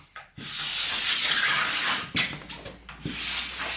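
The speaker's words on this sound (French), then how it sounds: "ce que je fais à l'aide de mon grattoir en métal, c'est de gratter le surplus de cire" A metal scraper rasps across a ski base, stripping excess dried wax in long, steady, hissing strokes with brief pauses between passes, close and fairly loud.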